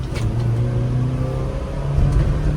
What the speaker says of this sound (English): Downshift into second.